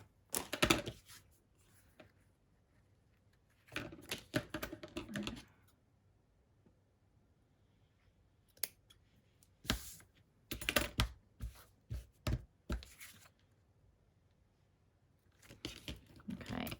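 Scissors cutting paper for journal cards, with short bursts of snipping and rustling separated by quiet pauses, close and fairly soft.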